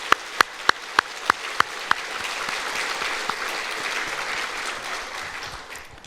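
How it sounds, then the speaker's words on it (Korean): A church congregation applauds the choir at an Easter Sunday service, opening with several sharp, evenly spaced claps before dissolving into a broad, steady wash of clapping. "우리 함께 박수로 주께 영광 올려드리겠습니다"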